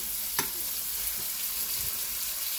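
A pound of halved jumbo shrimp fries in a skillet, giving a steady, broad hiss of sizzling oil with a few faint clinks and stirring scrapes. No voices are heard over the frying.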